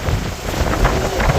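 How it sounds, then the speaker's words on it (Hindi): Strong wind buffets an outdoor microphone in a Delhi city setting, a loud, steady roaring rush with low gusty rumble throughout and no other sounds. "इतनी तेज हवा चल रही है"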